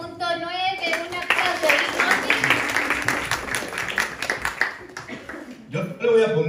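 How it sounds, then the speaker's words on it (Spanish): Audience applause and clapping at a poetry slam in Chicago, a dense burst of hands lasting several seconds, with a voice speaking before it and another coming in at the end. "un aplauso"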